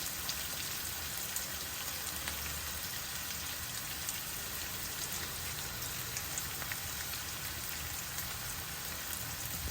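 Curry leaves fry in hot oil in a pan while dal is being cooked, giving a steady, faint, even sizzle and crackle that keeps going at a constant low level.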